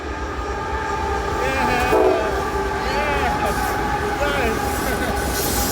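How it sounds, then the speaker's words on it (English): A CSX freight train rumbles past close by with steady wheel and rail noise and a short horn toot partway through, while a man on the Maryland Appalachian Trail speaks briefly over it. "Here comes the train again. Here comes the CSX."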